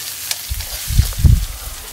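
Onions frying in a pan until golden for onion tacos, with a soft sizzle and a few low stirring scrapes, close and brief, with no talking.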